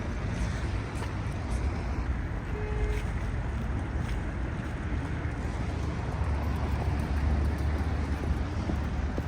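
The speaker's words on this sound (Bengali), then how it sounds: "এই রিভার, সিন রিভার। ওই একটা বোট আসছে।" A boat passes on the Seine River in Paris at night, a low steady rumble of engine and water heard from a bridge, mixed with wind and distant city noise.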